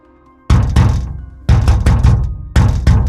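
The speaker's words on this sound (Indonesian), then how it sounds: "mendengar suara ketukan dari luar pintu WC" Knocking on a toilet door: three loud bursts of heavy, hollow thuds, each a quick pair or triple of knocks separated by short silences, close and alone.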